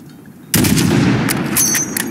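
A single loud gunshot rings out toward a target 600 meters away, a sharp blast after a quiet moment followed by a lingering echoing rumble.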